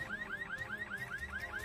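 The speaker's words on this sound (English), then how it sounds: "He runs to the counter and hits the alarm." A store alarm sounds: a steady electronic siren with rapid rising whoops, repeating evenly and continuously, loud and alone.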